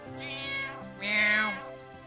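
Two drawn-out meows from a cat in the Final Fantasy IX video game, close and fairly loud, the second longer and stronger, with no talking.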